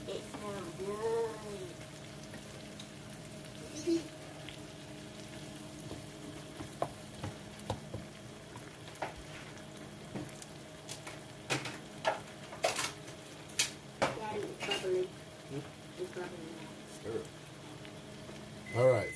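Shrimp and vegetables cook in a Kerrygold butter sauce in a pot, with a low steady sizzle, soft bubbling, and scattered utensil clicks and taps against the pan, loudest near the end.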